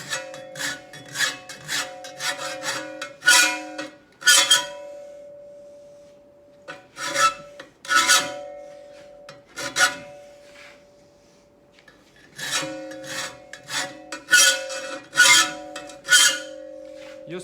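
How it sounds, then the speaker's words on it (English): Draw filing across a steel folding shovel blade: bursts of repeated rasping strokes, close and fairly loud, separated by a few seconds of quiet pauses, with a steady faint tone underneath. "let's start that draw filing"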